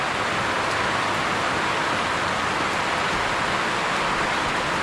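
Heavy rain pours down steadily and loudly, a dense unbroken hiss filling the scene at a bamboo hut where a bamboo ladder is being built, with no pauses or voices.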